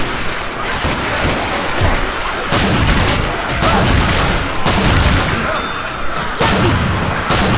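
Loud, continuous gunfire and booming impacts from the zombie shooter game Left 4 Dead 2 form a dense, chaotic wash of shots with no pauses.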